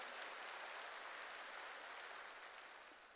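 A church congregation applauds during a sermon, a steady wash of many hands clapping, somewhat distant and quiet, slowly fading toward the end.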